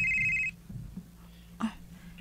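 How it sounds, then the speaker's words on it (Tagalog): Phone ringing with an incoming call: a short electronic ringtone with steady tonal beeps opens the clip, then cuts off, leaving faint room noise and a brief bump of handling. "nanawag naman si Jomar."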